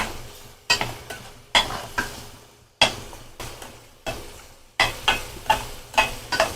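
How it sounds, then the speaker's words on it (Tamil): Garlic thokku frying in plenty of sesame oil, stirred with regular, forceful strokes that scrape the pan about once a second over a loud, continuous bubbling sizzle, with brief pauses between bursts. "நல்லா எண்ணெய் கக்கி வரும், அப்படி கொதிச்சு மேலே மிதந்து வர அளவுக்கு கிளறணும்."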